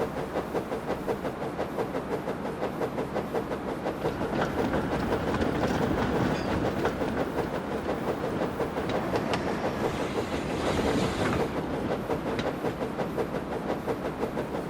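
A ballast train rolls steadily along the tracks, a continuous rumbling clatter with rhythmic clicking that swells slightly midway, loud and close, with no voices.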